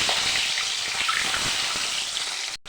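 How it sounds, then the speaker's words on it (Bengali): Egg frying in hot oil in a wok, a steady bright hiss and crackle heard close up throughout. "ডিমটাকে একটু ভেজে নেব।"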